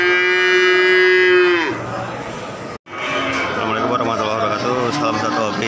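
Cattle low at a livestock market in Ambarawa, one long sustained moo up front followed by busy crowd chatter and market bustle.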